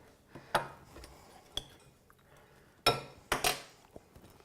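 Spoon scraping and clinking against a bowl while melted butter is mixed into pistachio crumbs, a few sharp close clinks and scrapes spaced unevenly with quiet gaps between.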